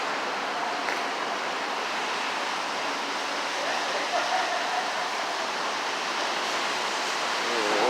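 Water runs off steadily from a large water main break at Neponsit circle, making a continuous broad rushing wash that swells slightly toward the end.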